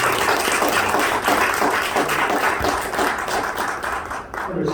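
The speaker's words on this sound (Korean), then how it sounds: "큰 박수 부탁드립니다." An audience applauds after a lecture, a dense, loud and steady wash of many hands clapping that tapers slightly near the end.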